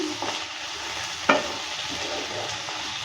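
Ridge gourd sizzles in a hot pan while a utensil scrapes and stirs, one sharp clack standing out midway, close and steady throughout.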